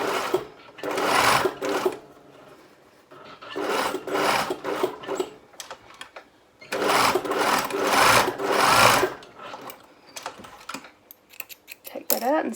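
Sewing machine stitching elastic pieces down one side, diagonally up and down the other in an N shape, heard as several bursts of rapid mechanical whirring separated by short pauses, close and fairly loud.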